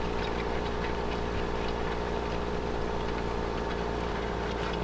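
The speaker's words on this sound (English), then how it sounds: "But the John Deere, as usual, is working effortlessly." A John Deere tractor engine in the video game Farming Simulator 2015 drones steadily and evenly at a moderate level throughout, with a low mechanical hum and no speech over it.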